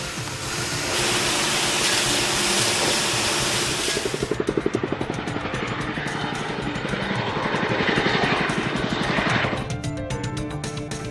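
A steady, loud roar of rotor and engine noise from a firefighting helicopter, rising into a rapid thumping chop midway before easing off.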